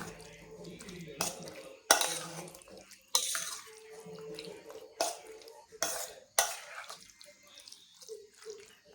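Guacamole ingredients with lemon juice being mixed in a bowl: scraping, clinking spoon-and-bowl strokes come in several short bursts with pauses between, fairly close and moderately loud, with no talk.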